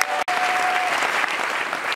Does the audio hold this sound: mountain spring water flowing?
no